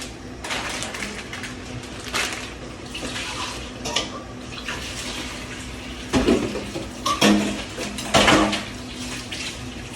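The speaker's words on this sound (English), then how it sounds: "Go place this in the sink." Tap water runs steadily into a kitchen sink as a cooking pan is set down in it, with a few metallic clanks and knocks over the continuous splashing, near and clear.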